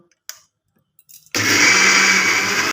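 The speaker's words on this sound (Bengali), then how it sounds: "এবার আমি এই মিক্সিটাকে ঢাকনা খুলে রেখেই বাটবো নকশাবড়ির ডালটা" A kitchen mixer grinder switches on and whirs loudly and steadily, grinding soaked lentil paste for nakshi bori, after a few faint clicks and knocks of setting it up.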